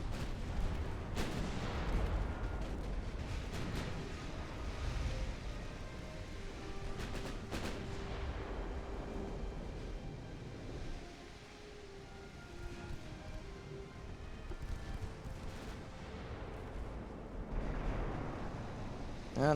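Naval artillery salvos from warships in the game Ultimate Admiral: Dreadnoughts, with deep rolling booms that fire repeatedly and layer over a continuous low rumble of battle, some sharp and near, others duller and distant.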